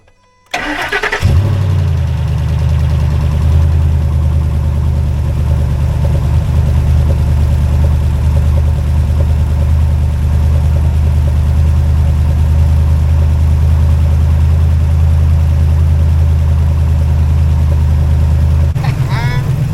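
A truck bought at auction as inoperable cranks briefly, catches and settles into a loud, steady low idle with a rough exhaust rumble from a holed muffler, running continuously for nearly twenty seconds before cutting off.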